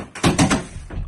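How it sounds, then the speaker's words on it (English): A door pushed shut, several muffled thuds and knocks in quick succession followed by a softer bump, close and fairly loud. "Why you close the door?"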